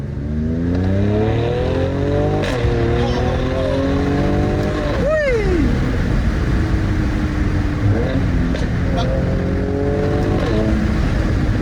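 A Mercedes C43 AMG accelerates hard in second gear, its engine note climbing steadily in pitch and loudness, with a quick shift and continued pull under heavy road and wind noise inside the cabin.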